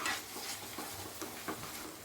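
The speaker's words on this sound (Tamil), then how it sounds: "நல்லா மிக்ஸ் பண்ணி விட்டுக்கோங்க." A spoon scrapes and stirs a thick paneer butter masala gravy with garam masala and turmeric in a pan, soft rhythmic strokes over a faint sizzle, close and quiet.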